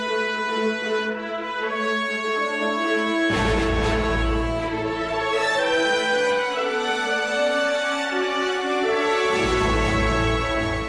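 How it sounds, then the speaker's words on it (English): Overwatch main menu music from the video game, a sustained orchestral piece with swelling brass and strings, loud and continuous, heavy low-end hits around the middle and again near the end, no talking. "this is Overwatch's main menu music as it exists in-game right now"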